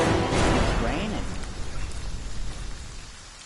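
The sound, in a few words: rain in the video game Friday the 13th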